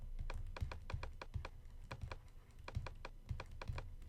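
Steady typing on a computer keyboard, a quick run of close, crisp key clicks in uneven bursts with brief pauses, alone and fairly quiet.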